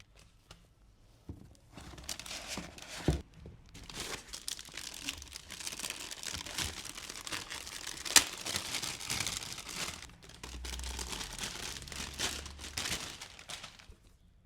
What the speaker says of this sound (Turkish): Şöyle kutumuzu açalım.